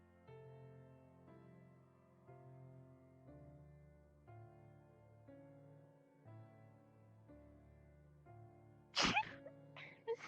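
One sharp, sudden sneeze bursts out near the end, loud and close, after a long stretch of soft sustained background music.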